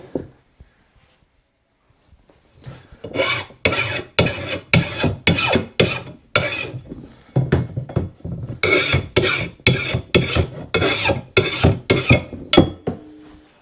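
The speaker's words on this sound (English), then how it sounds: "I just take a file to the back side. Just get any burrs off of it" Hand file rasping along the back edge of a John Deere D105 lawn tractor mower blade to knock off burrs, a loud steady run of quick back-and-forth strokes close up after a short quiet lead-in, with no voices.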